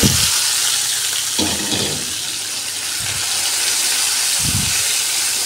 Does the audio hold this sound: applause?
no